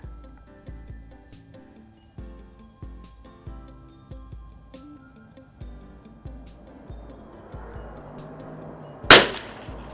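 A Lakefield model 92c .22LR bolt-action target rifle fires at an outdoor range, with a steady series of light, sharp cracks spaced about half a second apart, then a louder metallic clank near the end.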